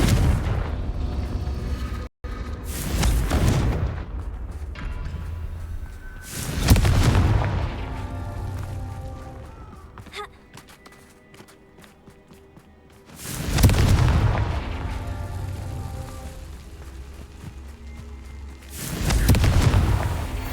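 Repeated Confringo fire-spell blasts in Hogwarts Legacy, four heavy booming explosions spaced several seconds apart, each swelling and rumbling off into quieter game ambience, no talking.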